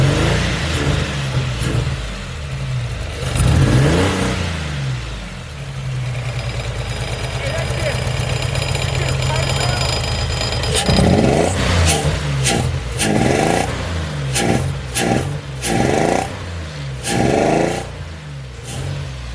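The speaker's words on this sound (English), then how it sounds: "we're gonna rev it up and see how she runs" A project car's engine revs in neutral, held below about 3,000 rpm, with repeated throttle blips rising and falling and a steady idle between them, loud and close.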